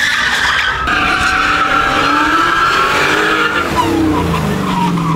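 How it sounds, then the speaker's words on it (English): A Dodge Challenger burns rubber at a large car auction venue, its tires squealing in a loud, sustained shriek with shifting pitch over a roaring engine that climbs, then drops near the end. "We were just blasting burning rubber the whole time."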